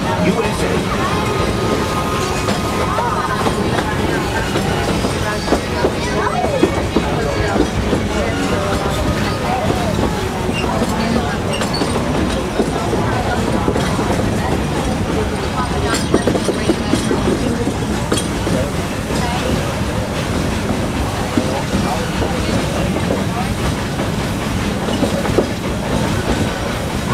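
The Walt Disney World Railroad steam train rolls along with continuous clickety-clack of wheels on rails, rattling cars and occasional metallic clinks, steady and close throughout with talk mixed in.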